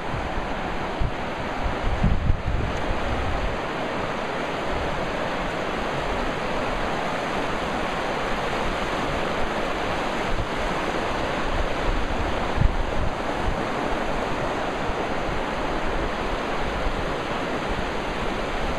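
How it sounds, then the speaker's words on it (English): Steady rushing water of a flowing river, a continuous broad roar filling the whole stretch with no voices. "sitting by this river listening to it"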